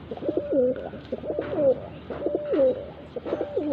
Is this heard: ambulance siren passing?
no